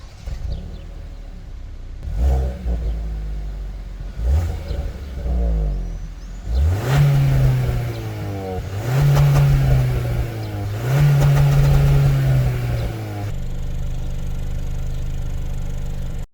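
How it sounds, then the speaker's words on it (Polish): Hyundai Tucson N Line 1.6 T-GDI four-cylinder exhaust giving a light growl, several rising revs that swell and settle in repeated pulses, then a steady hum, close and clear with no talk. "ale co ciekawe, wydech już coś tam lekko warczy."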